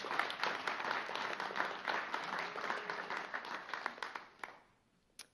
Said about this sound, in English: round of applause for our puppy raisers